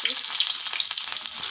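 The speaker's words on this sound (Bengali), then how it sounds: "এখানে আমি তেল গরম দিছি, এখন পেঁয়াজটা দিয়ে দেব। আমার তেলটা অনেক গরম হয়ে গেছে," Onion frying in very hot oil for a hilsa fish dish, a close, loud, crackling sizzle running steadily without pause.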